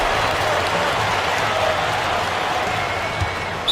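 Virtual crowd in an eBasketball video game applauding, a steady wash of clapping and cheering at a constant level with a commentator's voice in the background.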